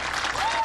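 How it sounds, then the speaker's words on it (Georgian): A brief burst of audience applause at a staged show, dense and steady, with a faint tone running beneath it. "Ქალბატონებო და ბატონებო, მეტი აპლოდისმენტები."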